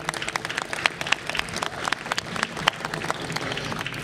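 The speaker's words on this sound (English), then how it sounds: "So let's give them a round of applause." Audience applause at a boat show opening: scattered, uneven handclaps from a modest crowd, fairly steady for about four seconds, moderately loud and heard alone without talk.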